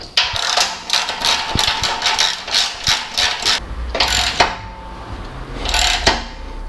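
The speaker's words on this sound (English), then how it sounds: "we should be able to grab the ratchet and do it up" A hand ratchet tightens a nylock nut on a 1275 Classic Mini's rear suspension, giving close, quick rhythmic clicking strokes in short bursts with brief pauses and a faint metallic knock, with no talking.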